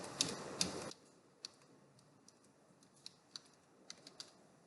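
Typing an IP address on a computer keyboard: a loud burst of rapid clicks at the start, then scattered single keystrokes tapping at irregular intervals, close and crisp in a quiet room.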